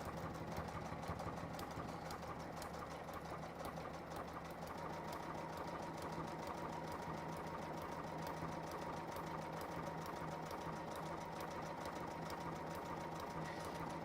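A domestic sewing machine runs a triple stitch, repeatedly stepping backwards and forwards through fabric. It produces a steady, even mechanical whir with a rapid needle-beat rhythm that stays close and continuous throughout, with no talking.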